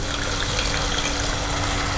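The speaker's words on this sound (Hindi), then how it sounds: "थोड़ा सा पानी डालेंगे," About a quarter cup of water poured into a pan of frying spices and green chillies, a continuous close rushing, gushing hiss that stays steady for the whole moment, with no voices.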